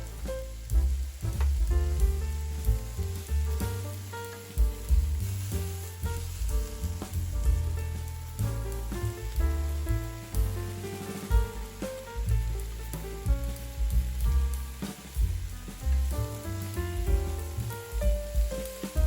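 Onion and shiitake mushrooms frying with chicken in a pan for a stir-fry with udon noodles, a steady close sizzle that runs throughout under loud background music.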